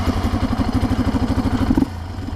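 Yamaha Raptor 700R ATV engine running with its airbox removed, a close, loud, steady rapid thumping idle with a pulsing rhythm that cuts off abruptly near the end, leaving a low residual rumble.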